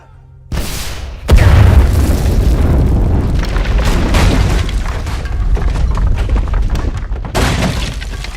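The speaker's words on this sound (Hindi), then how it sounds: "Right launcher load. फायर।" A rocket launcher fires in a movie action scene, a sudden loud blast followed by a heavy roaring explosion and rumbling debris that sustains for several seconds, with no talking.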